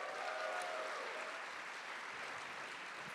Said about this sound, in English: If we can give A24 a big round of applause.